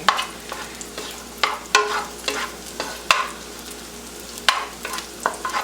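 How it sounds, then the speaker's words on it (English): Fried rice is stirred and tossed in a hot pan: a crackling fry sound broken by repeated sharp scrapes and clacks of the spatula, close and fairly loud. "Just keep mixing and mixing and mixing."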